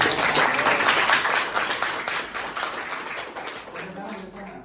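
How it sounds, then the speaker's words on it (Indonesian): A classroom group applauds during a teaching-practice lesson, dense clapping from many hands that is loud at first and gradually fades, with voices mixed in underneath. "Oh, tepuk tangan semuanya."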